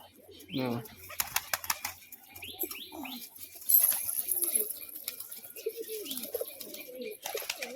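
Fancy pigeons in a loft give a loud, close coo near the start, then a run of sharp wing claps and fluttering, with softer cooing and chirps continuing in the background.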